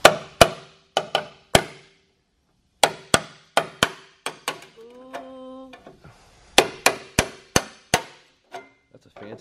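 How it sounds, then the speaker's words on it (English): Sharp metallic strikes of a weld breaker hammering a weld land in quick clusters with pauses between them, close and loud, and a brief whine partway through. "A weld breaker."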